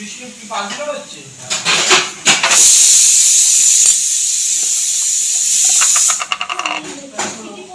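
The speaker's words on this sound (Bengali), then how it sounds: "শুকনো লঙ্কা আর জিরে তার মধ্যে তেল গরম তেল দিয়ে দেবো" Hot oil poured over dried red chilli and cumin for a jackfruit seed mash gives a loud, close, sustained hiss lasting several seconds, with clattering utensil sounds before and after it.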